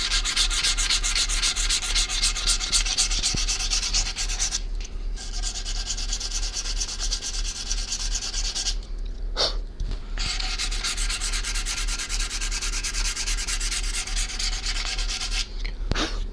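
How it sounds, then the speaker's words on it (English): Continuous hand sanding with sandpaper across a stained PRS-style guitar top, a steady close rasping scrub that pauses briefly a few times before resuming, with no talking. "being very careful not to let the sandpaper graze the top"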